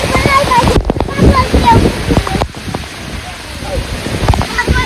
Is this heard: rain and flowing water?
yes